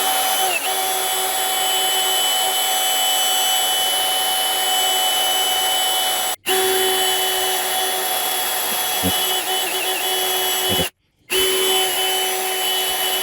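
A loud, continuous whine of a power drill boring through metal for an AK rifle parts kit build, running steadily nearby, cutting out briefly twice before resuming, with a high grinding edge throughout.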